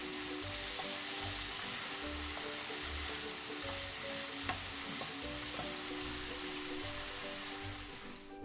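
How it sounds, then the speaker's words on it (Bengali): Chopped vegetables fry in oil with salt and turmeric for Bengali khichuri, a dense, steady rain-like sizzle close to the pan with faint clicks and a low rumbling hum underneath. "লবণ হলুদ দিয়ে আমি সবজিটাকে একটু তেলের সাথে ভেজে নিচ্ছি"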